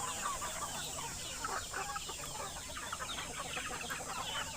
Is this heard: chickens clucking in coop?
yes